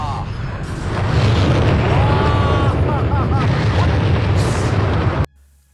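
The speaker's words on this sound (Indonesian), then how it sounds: "Dan terjadilah ledakan di gedung yang besar." A large building explosion: a loud, sustained roar with deep rumbling and crackling debris fills several seconds, then cuts off abruptly.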